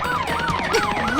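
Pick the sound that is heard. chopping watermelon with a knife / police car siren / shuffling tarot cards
police car siren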